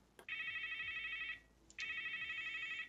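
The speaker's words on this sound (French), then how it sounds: "C'est le téléphone de Gustave" A telephone ringing in two electronic trilling bursts, each about a second long with a short gap between, clear and moderately loud over a quiet room with no talking.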